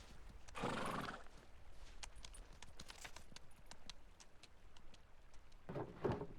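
Horse in the video game Pentiment, trudging through heavy snow: scattered hoof thuds and clops across the stretch, with two loud breathy snorts or whinnies, one at the start and one near the end, fairly faint overall.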